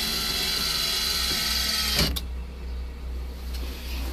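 Relay-driven throttle actuator on a remote-controlled manure pump tractor, a steady whirring electric motor over a low engine drone, ending with a sharp mechanical clunk, after which the engine hum continues.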